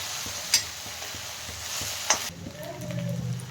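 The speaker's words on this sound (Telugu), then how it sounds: "అడగంటకుండా మనం కలుపుతూనే ఉండాలా బెండకాయ చితకకుండా కలుపుకోవాలా" Okra sizzles gently in a pan while a spoon stirs it, giving two sharp clacks against the pan over a quiet, close frying hiss.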